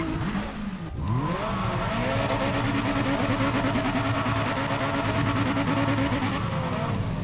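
A car doing a burnout in Need for Speed ProStreet: after a short revving start, the engine holds a loud sustained roar with screeching tires, steady for several seconds, close and unbroken.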